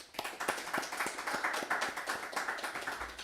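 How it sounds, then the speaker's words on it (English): A small audience at a graduation for an executive protection training course at Pacific West Academy gives a quick round of applause: distinct, fairly sparse hand claps in a loose, steady rhythm, moderately close, with no voices over them. "I'd like to give them a quick round of applause"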